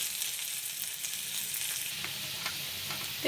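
Onions sizzling in hot oil with whole spices while cooking a Bengali prawn, ridge gourd and potato curry, a steady, moderately loud crackling hiss with occasional light stirring taps.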